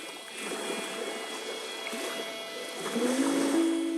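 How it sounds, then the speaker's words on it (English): Water sounds within a song: a soft, steady wash of flowing, splashing water with gentle swells, joined near the end by a rising sustained tone. "when I hear that water, I'm like, oh, water is peace to me"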